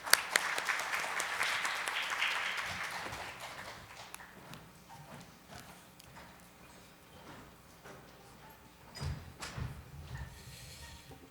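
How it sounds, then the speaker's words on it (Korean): Conference audience applause welcoming a fintech speaker onstage, a dense burst of clapping that peaks early then gradually thins and fades over several seconds. "저희 큰 박수로 환영을 부탁드리겠습니다"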